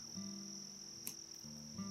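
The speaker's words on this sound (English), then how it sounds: "Still developing into an adult is this rather large cricket, still in its nymph stage." A large cricket nymph in the dry, arid outback near Burra, South Australia, gives a steady, thin, high-pitched drone that runs unbroken and faint over a low background hum, with a brief click partway through.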